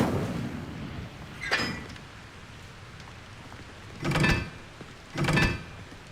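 Incendio fire spell bursts in the video game Hogwarts Legacy: three whooshing, crackling flares, one short and two longer, standing out clearly over a low background rumble with no talking.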